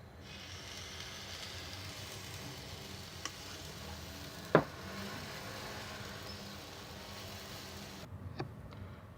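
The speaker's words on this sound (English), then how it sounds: "add a little of the mix into the frying pan and making a circle and let it cook for about 3 minutes per" Quiet, steady sizzle of pancake batter cooking in a frying pan, soft and continuous with one sharp tap of a utensil midway and a few faint ticks.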